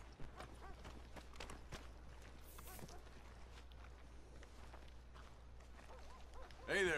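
Quiet hoof clip-clops from a horse in a video game, soft and intermittent over a low steady hum, with a brief louder burst at the very end.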